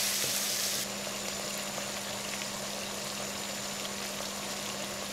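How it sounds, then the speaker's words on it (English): Spices fry in a pot for a venison curry, making a continuous, steady, moderately loud sizzle with a faint constant hum underneath and no talking. "Fry everything well. Keep stirring."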